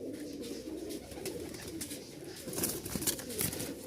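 A pair of white pigeons coo in soft repeated low calls, close by, with some rustling and faint chirps mixed in.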